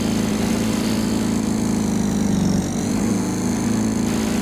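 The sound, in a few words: lawnmower engine running in a video game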